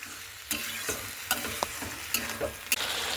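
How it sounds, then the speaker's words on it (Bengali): Boiled pui metuli and spices are stirred and sautéed in a pan, with a soft steady sizzle and irregular spoon scrapes and taps close by. "তো দিয়ে কিন্তু খুব ভালো মতো করে নাড়াচাড়া করে নিচ্ছি।"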